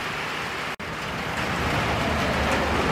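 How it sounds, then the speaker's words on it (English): Rain falls steadily at an outdoor shooting range, a continuous near hiss of drops on surfaces with one brief dropout, and no voices. "It's raining."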